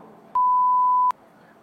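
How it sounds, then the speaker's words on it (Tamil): A single censor beep: a steady, loud pure tone lasting under a second, cutting in abruptly and stopping just as sharply over faint background noise. "அப்படியே இது எல்லாமே பீப்ல வரணும்."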